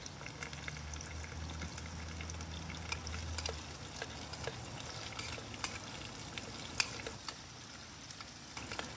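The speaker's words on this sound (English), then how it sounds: "Already got a nice sizzle there." Vegetables sautéing in oil in a pan over an MSR backpacking stove for a trail Mexican-style vegetarian dinner, a steady close crackling sizzle running throughout with no talk.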